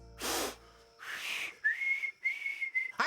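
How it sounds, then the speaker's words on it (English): A cartoon character whistles: a breathy puff, then clear sustained whistled notes in short phrases. "I did it! I did it! I can whistle!"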